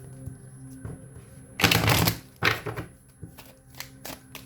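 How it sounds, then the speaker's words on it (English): A deck of tarot cards being shuffled, with two loud riffling bursts and several softer flicks and taps in between, close up and without talk. "I'm going to shuffle again."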